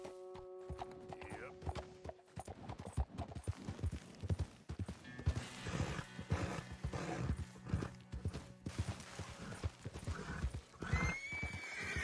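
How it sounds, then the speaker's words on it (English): Horse hooves clop in a steady trotting rhythm in Red Dead Redemption 2, with a high whinny near the start and another toward the end, quiet and alone. "Oh, that's a horse."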